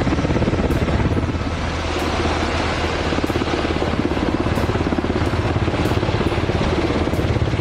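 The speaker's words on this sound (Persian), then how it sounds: "این بالگرد که به اسم شکارچی شب هم شناخته میشه، یکی از خطرناکترین بالگردهای تهاجمی جهانه" A Mi-28 Night Hunter attack helicopter drones loudly and steadily, its rotor beating in a fast, even pulse over a dense roar for several seconds, with no voices.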